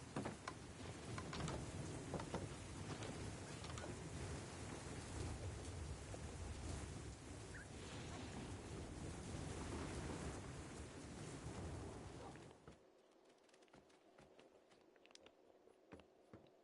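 Heavy rain pours down in the Minecraft video game, a loud dense hiss with low rumbling for about twelve seconds before cutting abruptly to a much quieter background.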